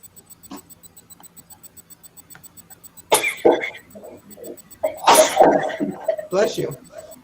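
Several sharp sneezes burst out close by, one at a time, with short pauses between them. Before them there is a faint, steady ticking, and a voice is present during a live online broadcast.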